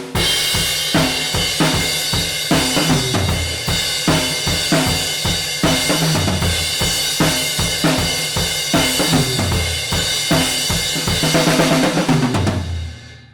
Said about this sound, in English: it's called 4 to the floor because you're playing quarter notes, just one after the other on the drum that's on the floor.